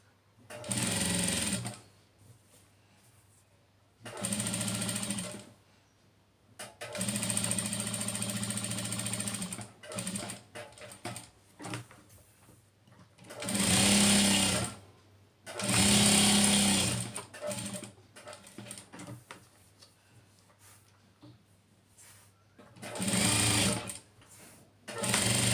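Sewing machine stitching a gown's lining to its body piece, running in several loud bursts of rapid mechanical rattle separated by quieter pauses of fabric handling.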